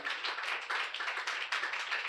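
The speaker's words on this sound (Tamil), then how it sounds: "நல்ல ஜோர கைத்தட்டு கொடுக்க பார்க்கலாம் இயேசுவுக்கு" A church congregation at a Sunday service claps hands together in a fairly quick, pulsing rhythm, the group clapping in rough unison at moderate distance with no voices over it.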